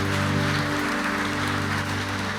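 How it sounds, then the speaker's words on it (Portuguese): Church congregation applauds during a service, clapping heard under sustained organ or keyboard chords that dominate the sound for a couple of seconds. "Você pode aplaudir o nome do Senhor."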